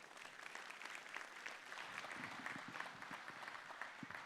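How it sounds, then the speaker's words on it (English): Audience applause fills a launch event for a luxury residential project in Mumbai, a steady wash of clapping held at moderate distance for several seconds. "Please give him a big applause."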